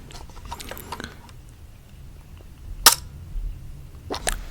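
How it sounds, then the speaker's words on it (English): A 1950s camera's shutter fires once with a sharp, close click, set among quiet handling and fiddling noises and followed later by a second crisp snap. "that little click you heard was the shutter firing"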